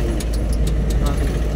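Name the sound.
road traffic in Podili town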